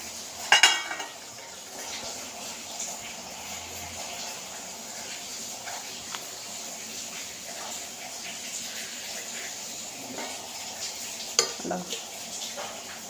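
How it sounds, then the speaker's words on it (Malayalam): Spice-marinated fish fries in a pan with a low, steady sizzle, broken by occasional clinks and scrapes of a utensil against the pan, loudest near the start and again toward the end. "നമ്മൾ ഇന്നലെ പുരട്ടി വെച്ചേക്കുന്ന കൂട്ട് കുറച്ച് മീൻ ഇരിപ്പുണ്ട് അപ്പോൾ അത് ഞാനൊന്ന് വറക്കണം"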